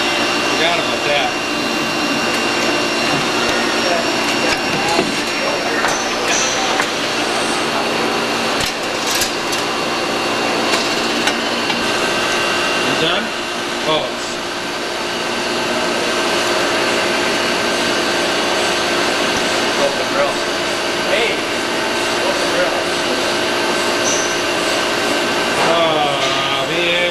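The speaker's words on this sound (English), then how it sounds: "Oh, the spindle's going the wrong way." A machine spindle spins steadily, turning the wrong way, giving a continuous whirring machine drone with several steady tones and occasional clicks, and people talk faintly under it.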